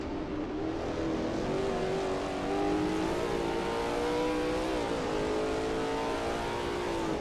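A Lola T70 MkII Spyder race car in a video game at Road America's Canada Corner produces a continuous engine howl, with the pitch steadily climbing and shifting as it accelerates, loud and close.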